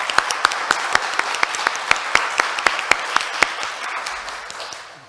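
Applause for a candidate introduced at an architects' association presidential election debate: a small audience claps in sharp, evenly spaced strokes that stand out individually, then tapers off toward the end.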